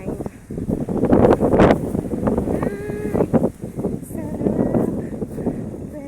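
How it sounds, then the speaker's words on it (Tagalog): Strong wind buffets the microphone outdoors near a highway, a rough gusting roar under people talking loudly nearby, rising and easing in surges. "Buyag hangin."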